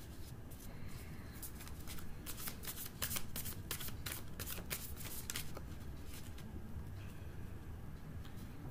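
Tarot cards being shuffled and handled at close range, a steady papery riffle with a burst of sharper card flicks near the middle, no voices.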